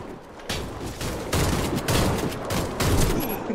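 Mossberg shotguns firing in a one-on-one Warface match in a hangar map: heavy, booming blasts in a dense, continuous volley, loud and close, with no talking.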